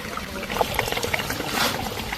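Rainwater runs down the rocky Velliyangiri hill trekking path like a small river, a continuous trickling, splashing flow close by with scattered bright drips and gurgles.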